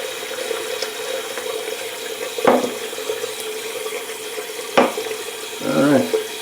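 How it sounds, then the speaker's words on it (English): Tap water running into a bathroom sink during a shaving routine, a steady close rush with a few brief splashes and clunks, no voices. "going to fill the sink with a little bit of water"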